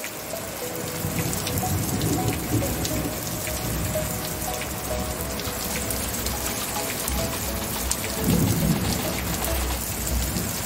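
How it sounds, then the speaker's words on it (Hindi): Heavy rain pours steadily, a dense wash of hissing drops beating on surfaces, with low rumbles underneath throughout. "पानी जो है बिल्कुल बह रहा है और बहुत तेजी के बारिश हो रही है।"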